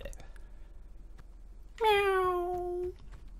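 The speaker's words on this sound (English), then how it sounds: "Meow." A single drawn-out meow, close and clear, rises out of quiet background sound and lasts about a second during a Jotun: Valhalla Mode game session.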